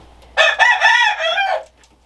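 A rooster gives a single full cock-a-doodle-doo crow, loud and close, lasting over a second with no talk.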